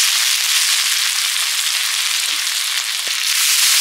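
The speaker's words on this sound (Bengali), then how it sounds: "কিছুটা কড়াইতে কষিয়ে নিচ্ছি," Chicken coated in ginger-garlic paste and spices frying in a wok for chicken kosha, a loud dense continuous sizzle with a single sharp tap near the end.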